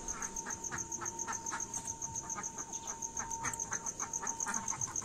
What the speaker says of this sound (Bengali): আর এই যে আমি এসেছি হাঁসের ঘরে হাঁসগুলোকে খুলতে।